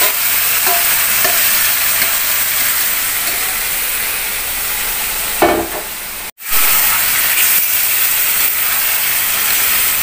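Goat meat cooking in a pan gives a loud, steady frying hiss and sizzle close by, with a brief lid or utensil knock and a momentary drop near the end, no talking.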